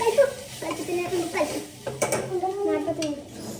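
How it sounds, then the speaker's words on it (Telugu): A spoon stirs chilli powder and spices in a cooking pot over heat, scraping and clinking against the metal in repeated strokes under a soft sizzle, with a voice talking at times. "కలుపుకోవాలి, కలుపుతున్నాము"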